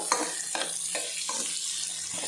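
Onions frying in ghee for paneer biryani give a steady, close sizzle, with soft scraping stirs every half second or so and no voices.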